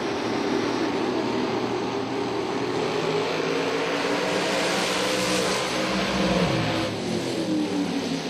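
Drag racing engines roar loud and continuous as a dragster on an American chassis and a crop-top Corvette run down the strip side by side, with a slight swell near the end.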